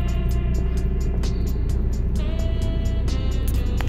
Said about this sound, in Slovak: No a ešte sa nakladajú auta